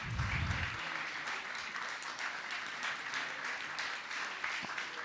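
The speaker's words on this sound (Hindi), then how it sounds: "आप उनके लिए भी तालियां बजाइए।" An audience at a religious discourse by a Jain monk applauding, a sustained even patter of many hands clapping from a distance, fairly faint throughout.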